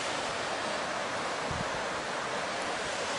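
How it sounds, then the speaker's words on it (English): A waterfall gives a loud, steady broadband rush that washes over everything evenly, with no voices. "I'm trying to get behind this waterfall right now."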